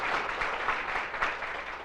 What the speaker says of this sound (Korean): 박수 한번 주셔야 되는 거 아니에요?